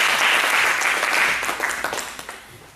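An audience bursts into loud, dense applause and acclaim, a thick wash of clapping from many people that gradually thins into scattered claps toward the end.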